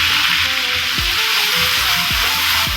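Onion paste hitting hot oil with whole cumin seeds for a fish-head chana dal, giving a steady, loud broadband sizzle that runs continuously throughout, with a few soft stirring or clinking sounds underneath.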